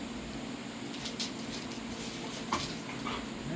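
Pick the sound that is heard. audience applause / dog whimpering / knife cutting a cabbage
dog whimpering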